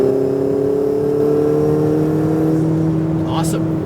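Ferrari 488 GTB engine held at full throttle on a racetrack, a loud steady droning note with a slight rising pitch, running continuously close to the car throughout.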